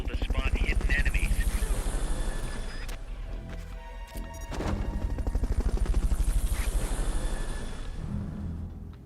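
Helicopter in the Metal Gear Solid: Peace Walker video game, a steady pulsing rotor thrum that dips briefly midway amid a crash and game effects, then swells again, with a voice speaking over it.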